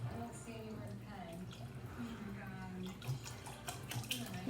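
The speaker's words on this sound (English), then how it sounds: "And then I'll put some water in there." Tap water runs into a pot for beef barley soup, a quiet continuous splashing stream from a faucet filling a kitchen vessel, heard under ongoing talk nearby.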